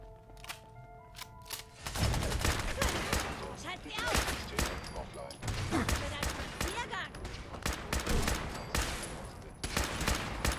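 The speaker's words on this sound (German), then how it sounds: "Warum schießen die eigentlich immer nur auf mich?" Enemy gunfire in the game Fallout 4, a dense, loud burst of rapid overlapping shots and automatic fire breaking out after a brief quieter stretch and continuing with short pauses, a voice talking over it.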